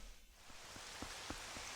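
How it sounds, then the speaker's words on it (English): Steady soft rain falling across Hyrule Castle's courtyard in Twilight Princess, a quiet even patter with faint drips and no music or voices. "you're in these courtyards and it's just raining and there's no music"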